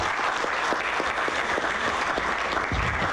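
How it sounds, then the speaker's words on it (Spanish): Sustained applause from delegates at an emergency summit of South American presidents in Cochabamba, Bolivia, with full, steady clapping in a large hall and a few low thumps beneath. "Aplauso para ellos, tan solidariamente presentes."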